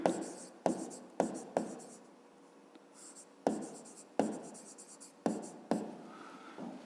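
Pen strokes on paper as a math answer is written out by hand: a series of sharp scratchy bursts, each fading quickly, close and fairly quiet with short pauses between them.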